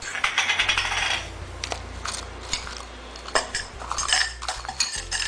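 Ice cubes drop into a glass of masala coke, a run of sharp clinks and clatters, some in quick clusters, with no talking.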